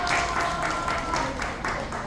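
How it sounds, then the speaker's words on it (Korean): A crowd at a Busan car parade launch ceremony applauds, and the clapping comes as a dense, steady wash with slight rhythmic swells over roughly two seconds. "박수 한번 주세요"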